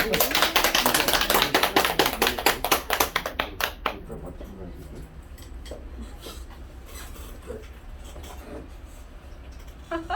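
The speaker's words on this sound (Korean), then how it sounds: "여러와 같은 박수로 환영해 주시기 바랍니다" A burst of audience applause welcoming a speaker at a lecture, loud and dense at first, tapers off over about four seconds into a quiet room with faint murmurs.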